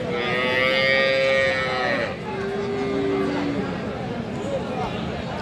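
Cattle at a livestock market selling cows with calves low in long, loud mooing calls, one drawn out and then further calls following, set against busy crowd chatter and voices nearby.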